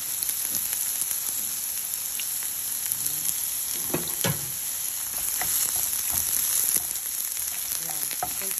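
Onion frying in a small amount of cooking oil in a home kitchen, giving a steady, close sizzle with crackling pops and occasional stirring scrapes throughout, with no voices.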